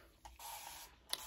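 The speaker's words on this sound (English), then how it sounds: "I'm going to take my spray bottle and I'm going to wet this hair up" A handheld spray bottle spritzes water onto a curly headband wig's hair in a few quick hissing bursts, close and moderately loud, with no talking.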